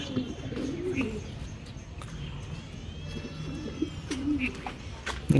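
Racing pigeons back at the loft after a 60 km training toss coo softly, several low throaty calls repeating at close range over a faint background hum.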